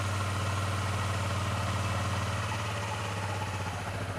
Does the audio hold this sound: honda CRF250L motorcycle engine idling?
yes